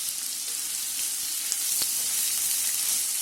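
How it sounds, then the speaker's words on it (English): Finely chopped red onion and spring onion greens sizzle steadily in hot oil over a high flame, a loud, close, continuous crackle with a few small pops and no voices. "add in about 2 tablespoons of red onion chopped finely and 1 tablespoon of spring onion greens"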